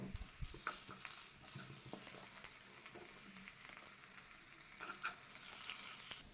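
Sabudana potato appe fry in a little oil in an appe pan while a spoon flips them, making a soft, continuous sizzle broken by light scrapes and taps.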